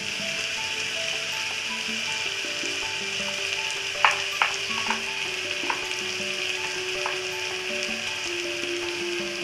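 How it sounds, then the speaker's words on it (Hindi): Chana masala with ginger-garlic paste fries in a pan, a loud continuous sizzle with a brief burst of spoon clatter and scraping midway, steady and close throughout. "इसको भी थोड़ी देर फ्राई करेंगे, मसाला मिलाएंगे अच्छे से"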